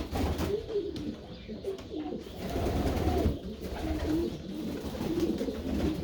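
Pigeons coo steadily at close range, soft low rolling calls overlapping one another against a busy background of birds.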